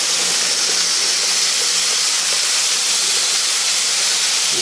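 Two pounds of ground beef sizzles loudly as it browns in a pot for chili, a steady close hissing roar with no break, peppers and onions cooking alongside.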